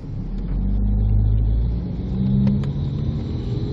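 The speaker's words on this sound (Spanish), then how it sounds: "Vamos a mover el carro." A 2001 Ford Focus engine with a faulty shift solenoid runs with a low, steady rumble, swelling twice as it revs slightly, close by and without talk.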